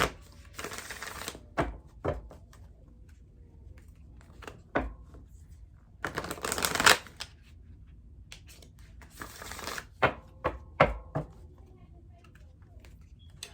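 Cards shuffled in short fluttering bursts with soft taps and knocks between them, close by, with a quiet room in the background.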